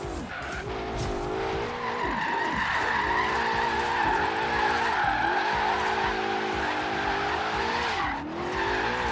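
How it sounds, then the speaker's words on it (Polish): A Ford Mustang drifting in Forza Horizon 3 gives a loud, continuous tire squeal that wavers in pitch, over a revving engine that rises and dips, with a brief break near the end. "przejechałem już połowę tego driftu i jeszcze przesterowałem"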